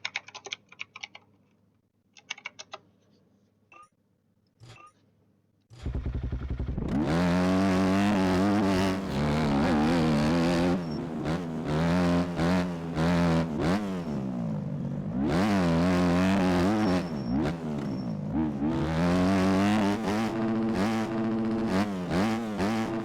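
Factory 250 dirt bike engine in the MX Bikes video game, starting after some keyboard typing and clicks, then revving loudly and continuously with rising and falling pitch sweeps as the throttle opens and closes.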